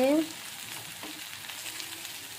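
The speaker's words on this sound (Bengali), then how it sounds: "এই যে বিনস আলু ভাজা চলছে" Beans and potatoes fry in a pan with a soft, steady sizzle that continues throughout, faint and close, after a brief tonal sound at the very start.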